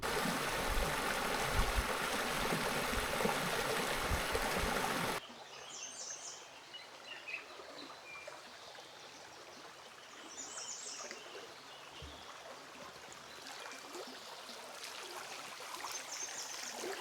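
A creek flows along a wooded valley campsite. Loud, rushing water fills the first few seconds, then a softer, steady trickle continues with faint bird calls now and then.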